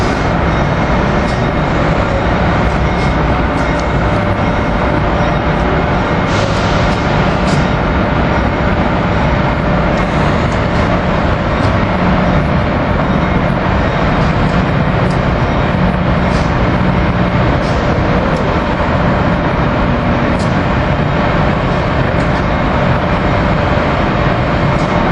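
A freight train rolls past at 30th Street Station in Philadelphia with a loud, continuous rumble and clatter of railcars, steady throughout, with occasional squeals and clanks over the roar.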